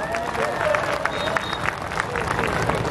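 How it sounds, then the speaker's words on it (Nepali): Broad crowd clapping at a large open-air election rally in Chitwan, a continuous wash of many hands with scattered sharper claps, a speaker's voice threading through the noise. "यो जितको सङ्केत हो भने जोरदार ताली बजाइदिनुहोस् न"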